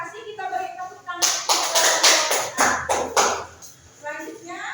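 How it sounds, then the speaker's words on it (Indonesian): Classroom applause at an elementary school, a burst of children clapping rises suddenly and continues for about three seconds before fading, with voices heard before and after. "kita beri tepuk tangan"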